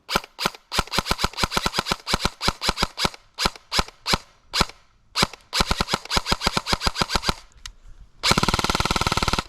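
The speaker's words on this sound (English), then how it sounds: "let's actually showcase how fast this guy's semi-automatic and full auto is" Airsoft gun firing, first in rapid semi-automatic shots with short gaps, then a dense buzzing full-auto burst at the end, loud and close with no talking.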